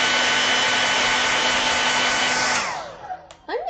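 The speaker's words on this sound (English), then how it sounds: "If I use my hairdryer, hopefully it's not be too loud." A hair dryer blows with a steady, loud whooshing roar, then winds down and cuts off near the end, followed by a few faint clicks.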